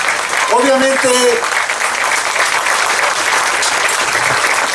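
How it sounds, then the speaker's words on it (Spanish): Loud, dense audience applause welcoming a speaker at an informational assembly, steady throughout, with a brief voice or tone heard near the start. "un fuerte aplauso"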